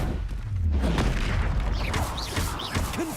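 A Confringo fire blast spell in Hogwarts Legacy fires as a booming burst followed by crackling impacts and swooshing magical effects, loud and close, with no talking.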